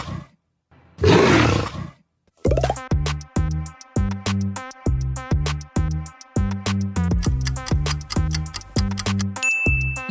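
Jaguar car brand sound logo: a roaring big-cat growl bursts out after a brief pause, followed by a bright, rhythmic musical sting of repeated struck notes and ticking accents, loud and clean with no talking.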